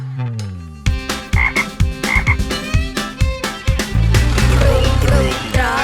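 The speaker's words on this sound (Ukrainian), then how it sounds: "Звичайно, це жабеня." A frog croaks repeatedly in a quick, rhythmic series of loud, close calls, with a musical backing underneath.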